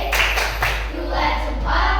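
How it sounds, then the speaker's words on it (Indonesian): Schoolchildren in an elementary classroom clap together in a short 'tepuk salut' cheer for a presenting group, several broad hand-clap bursts close by with mixed voices. "tepuk salut untuk kelompok 2"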